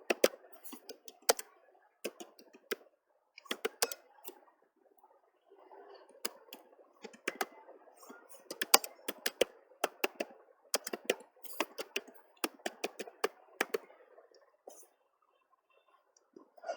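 Typing on a computer keyboard in desktop publishing software: irregular runs of quick, crisp key clicks with short pauses, close and fairly quiet, with no one speaking.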